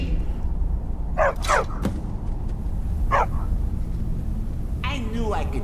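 A dog barks and yips in the video game Skyrim, a few sharp close barks in bursts over a steady low background hum.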